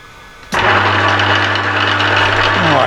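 An Emco Maximat V10-P metal lathe starts up abruptly and runs with the feed engaged, a loud steady motor hum with gear whine, close and continuous with no talking.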